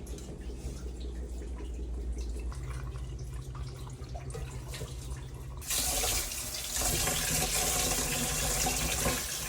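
Water runs from a rice pot as the rice is washed, a steady close trickle that turns into a louder, fuller gush of pouring and splashing partway through.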